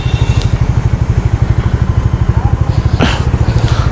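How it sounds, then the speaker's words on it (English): A Bajaj Dominar 400 BS6 motorcycle engine runs with a steady, loud, rhythmic low thump throughout, heard up close while riding. "I'll take a shoot and let's see how this bike performs."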